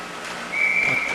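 A referee's whistle at an ice hockey game shrills as one steady blast that starts midway and holds for about half a second over the low rink noise of the arena.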